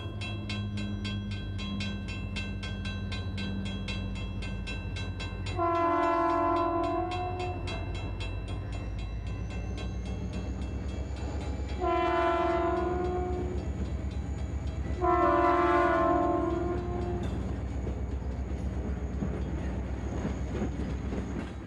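A BNSF local freight train on Stevens Pass, carrying loads from a lumber mill back toward Wenatchee, sounds its horn in three separate blasts over a steady rolling rumble of the cars.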